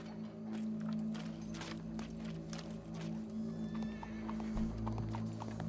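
Steady clip-clopping of horse hooves at a walking pace in Red Dead Redemption 2 over a low droning hum, with a brief whinny-like sound near the end.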